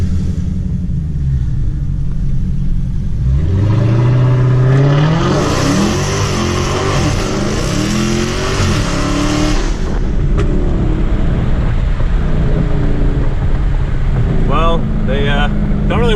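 A Dodge Hellcat heard from inside the cabin: a deep engine drone rises as it accelerates hard, revving up through gears with a loud rising whine, then settles into cruising rumble, with a voice talking over it.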